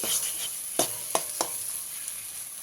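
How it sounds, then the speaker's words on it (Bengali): Spice paste for potol chingri frying in oil, a soft steady sizzle with a few brief stirring clicks, close but quiet. "পেস্টটা দিয়ে খুব ভালো করে ভেজে নিয়েছি"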